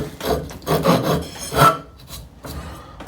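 A rasp files an old wooden dowel being shaped into a hammer, in repeated rough scraping strokes with short pauses between passes, close up and alone.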